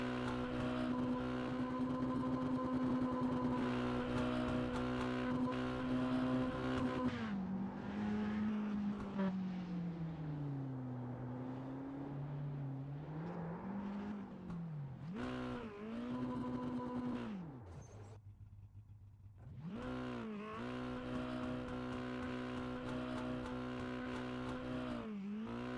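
A dirt-track race car doing burnouts on the front straightaway at a night race, its engine roaring steadily, then rising and falling through several revs with a brief cut before it picks back up, loud and sustained.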